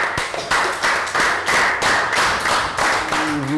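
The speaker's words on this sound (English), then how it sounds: "Round of applause" Children in a Year 3 English class give a round of applause. The loud, rhythmic bursts of clapping come in regular pulses, close and uneven, and a brief voice is heard near the end.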